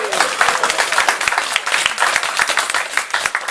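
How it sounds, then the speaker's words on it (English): Audience applause for Arthur at a global networking forum, dense and steady clapping that holds at an even level through the whole stretch. "round of applause for Arthur"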